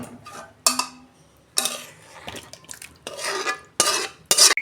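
Potato and prawn curry being poured and scraped out of a pan, with a string of sharp metallic clinks and scrapes of utensil against metal, separated by short quiet gaps.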